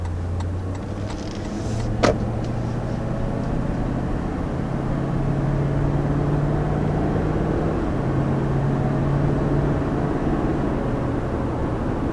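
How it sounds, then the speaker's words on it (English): Steady, sustained engine drone from an old-school V8 in a 2019 Toyota Land Cruiser, a raspy low hum running continuously throughout at moderate level with no talk over it. "It being an old school V8, it has a very raspy sound to it"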